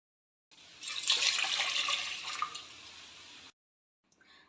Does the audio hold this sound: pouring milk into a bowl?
yes